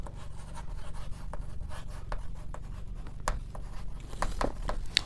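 Writing on a board during a chemistry lesson gives irregular scratchy strokes and short taps, close and fairly quiet, with no talking.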